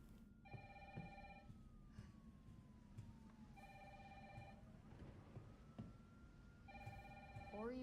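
A telephone in the Resident Evil 3 video game rings in three repeated bursts of a bright electronic bell over a low rumbling background, faint and mid-distance, with a sliding siren-like tone.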